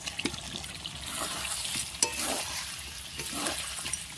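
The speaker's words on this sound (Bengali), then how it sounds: "এবারে আমি ভেজে রাখা আলুগুলি দিয়ে একটু সময় নাড়াচাড়া করে জল দিয়ে দেবো" Fried potatoes are stirred into a sautéing country-chicken curry, giving a soft continuous sizzle with a few scraping stirs of the spatula, close and fairly quiet, with no voices.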